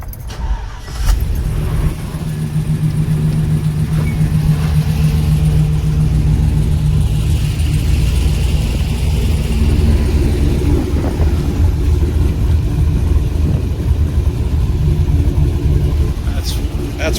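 A 1987 Chevrolet K20 Suburban fitted with a 5.3 LS V8 and a four-speed manual cranks over, catches and settles into a steady, loud, close idle with a deep low rumble that holds for the rest of the stretch.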